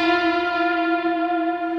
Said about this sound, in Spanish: este tiene una particularidad, y es que estoy agregando un vibrato